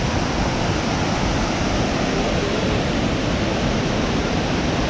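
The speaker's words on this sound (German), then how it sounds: "Da sind wir an den Wasserfällen angekommen" A multi-tiered waterfall in Georgia pours steadily, a loud, continuous broadband roar heard close up and alone, with no voices.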